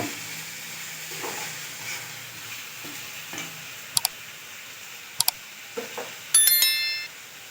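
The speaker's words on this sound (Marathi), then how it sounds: "याच्यात ॲड करायचं आहे मध्यम आकाराचा आहे कट केलेला टोमॅटो। हे सर्व हलवून घ्यायचं आहे" Chopped medium tomatoes stirred in a pan produce soft scraping and a low sizzle, broken by sharp metallic clicks and ringing clinks of a utensil against the pan.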